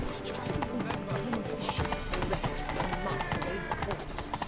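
The horse Roach gallops in The Witcher 3 with rapid, rhythmic hoofbeats that continue throughout over ambient game sound and faint voices.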